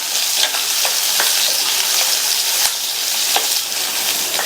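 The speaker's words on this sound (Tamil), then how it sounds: "இந்த வெங்காயமும் லைட்டா வதங்கட்டும்." Two medium onions, roughly cut, sauté in a pan for gobi peas masala, a loud close sizzle with scattered sharp crackles and occasional stirring scrapes throughout.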